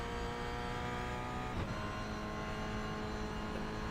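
Toyota GR86 race car at full throttle at Oschersleben, a loud steady engine drone with dense harmonics holding constant throughout, close and continuous with a brief shift around the middle.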